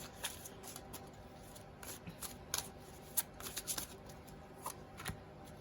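A deck of tarot cards is shuffled close up, quiet riffling and flicking with irregular sharp snaps and bursts over a faint background, no speech.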